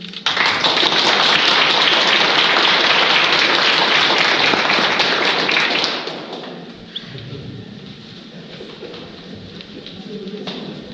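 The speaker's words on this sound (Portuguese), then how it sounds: "Gratidão e uma salva de palmas para esse momento." An audience at a Portuguese-language entrepreneurship talk bursts into a dense, loud wash of clapping that holds steady for about six seconds, then cuts off abruptly, leaving a quiet room with faint murmurs and small noises.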